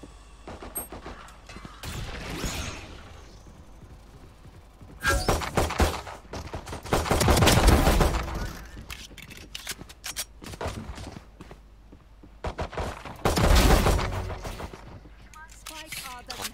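Bursts of gunfire in the tactical shooter Valorant, with rapid volleys and single shots clustered in several loud flurries, while a voice talks and exclaims over the game.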